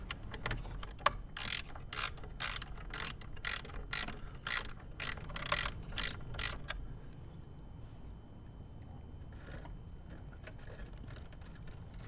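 A ratchet wrench drives a bolt back into the mount on a 2013 Jeep Wrangler Rubicon, with a quick run of clicking strokes for about seven seconds, then quieter background.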